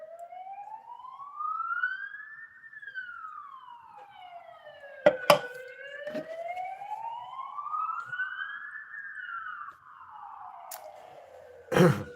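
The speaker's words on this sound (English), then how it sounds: "That's the first siren in a while, actually." A wailing emergency vehicle siren rises and falls in slow sweeps, clear and steady from moderate distance, with a couple of brief sharp knocks partway through and another near the end.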